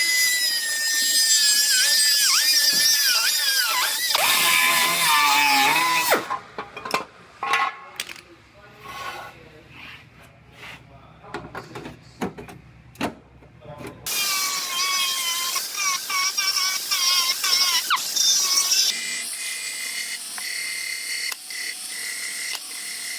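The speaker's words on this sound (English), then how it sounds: "I'm going to cut this new part. I'm going to cut it slightly long to start with" A power tool cuts a new frame rail section for a car body in a bodyshop. Loud, close whirring and cutting bursts frame a quieter middle stretch of scattered clicks and knocks before the cutting resumes.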